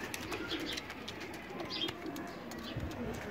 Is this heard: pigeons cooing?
yes